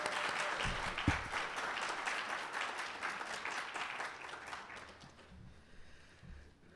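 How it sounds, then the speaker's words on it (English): Applause for a university choir at a Black History Month kickoff event, a steady wash of crowd clapping that fills the room, then thins and fades toward the end. "Can we give our beautiful university choir another round of applause?"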